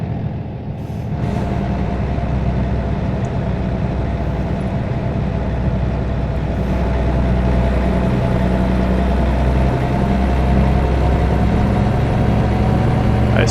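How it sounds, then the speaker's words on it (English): Truck engine in American Truck Simulator driving through Utah, a loud steady diesel drone and rumble that holds evenly throughout, alone with no talking. "Are you getting all the engine noises?"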